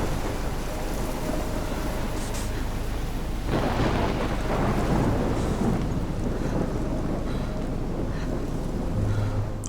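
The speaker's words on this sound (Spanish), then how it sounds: "Joder, una tormenta, tú, si hay un huracán ahí." Thunderstorm in the video game Life is Strange, with a loud steady roar of rain and wind and a heavy rumble swelling midway, continuous throughout with no voices.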